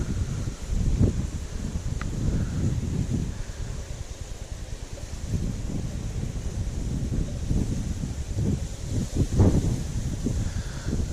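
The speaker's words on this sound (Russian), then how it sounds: "Ветер, конечно, капец, не дает вообще комфортно ловить." Strong wind on an estuary shore during fishing buffets the microphone in a continuous rough rumble, with gusts swelling and fading and light rustling mixed in; no one speaks.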